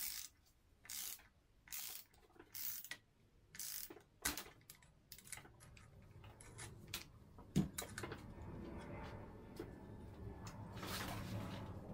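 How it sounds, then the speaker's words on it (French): Flywheel magneto nut being tightened to 60 Nm during top-end engine assembly on a Big Wheel minibike, heard as bursts of quick ratchet clicks between short pauses, fairly close and moderate in level, ending in a steadier mechanical whir. "Serrage de mon écrou de volant magnétique 60 Nm."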